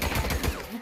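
A quick burst of rapid gunfire, several shots fired in close succession, loud and near, lasting under a second, in the video game Days Gone.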